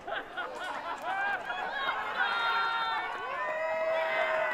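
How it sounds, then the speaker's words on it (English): Pickleball crowd at a Brisbane final during a timeout, rising from murmur to sustained cheering with shouts and whoops, voices swelling and holding loud toward the end. "you can hear them getting on their feet, cheering their sides on"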